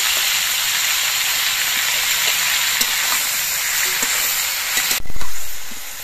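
Broccoli frying briefly in a pan gives a loud, dense, steady sizzle that hisses throughout, with a sharp burst of spitting near the end before it eases off.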